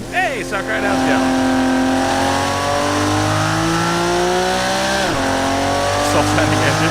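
Loud engine revving in a car-building video game for an open-wheeler race car, a steady high-pitched whine that climbs and dips sharply near the end, with talk mixed in.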